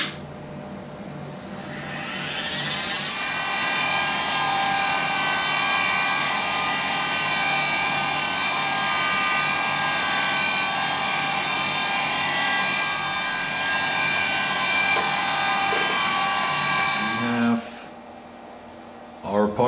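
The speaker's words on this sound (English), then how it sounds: "I'm using a stubby carbide drill" A high-pitched whine of a stubby carbide drill cutting a metal miniature M1911 sear rises and holds steady for a long stretch, then stops abruptly.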